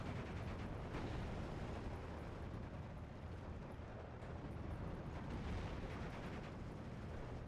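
HE shells firing and exploding in Steel Division 2, a dense, steady rumble of booms and blasts filling the whole stretch, loud and unbroken, with no voices.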